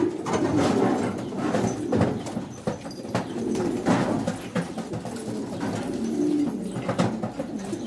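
Pigeons coo inside a coop housing rough-feathered pigeons, soft repeated calls against a busy background with some knocking and rustling, no speech.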